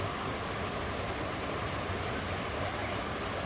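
Steady broadband rush of flowing water from a stream, a continuous even wash with no distinct events, close and fairly loud throughout.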